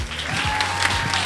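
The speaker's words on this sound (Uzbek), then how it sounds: "marhamat, qarsaklaringiz" A brief burst of applause for a youth group's leader, fairly loud and close, with a faint voice underneath.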